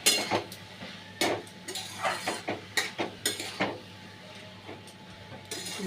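Ash gourd stirred with salt in a pan, a series of rhythmic spoon scrapes and clinks against the metal over a faint sizzle, close and fairly regular.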